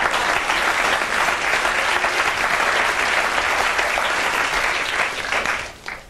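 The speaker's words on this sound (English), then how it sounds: "You're just applauding Jesus" A late-night TV studio audience breaks into sustained, dense applause that holds steady and then tapers off near the end, heard alone without talking.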